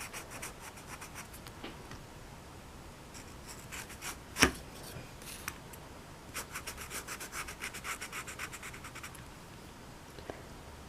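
Pencil or marker scratching and rubbing across paper while filling in and widening the stripes on a drawing of a rabbit's dress, with steady quiet strokes and bursts of rapid short scribbles and one sharper tap.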